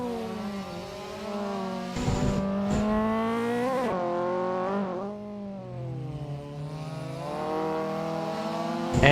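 A racing car in the Assetto Corsa sim roars through a touge mountain pass, its engine climbing and dropping through the revs with brief tyre squeal bursts, loud and continuous.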